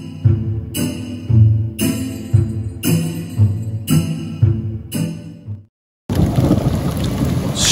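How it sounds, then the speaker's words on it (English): Thunderstorm with strong winds and heavy rain at a chateau, loud repeated thunder cracks and rumbles in a regular series, then a dense roar of pouring rain and wind. "Strong winds and heavy rains have arrived at the chateau."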